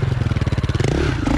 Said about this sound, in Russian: За счет переднего тормоза выходим на боковые колеса.